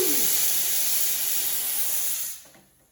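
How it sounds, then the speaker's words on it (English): Coffee machine steam nozzles hiss loudly in a steady, continuous rush of steam, holding for over two seconds before cutting off abruptly and fading away. "And then I believe I also have to push some steam through the nozzles."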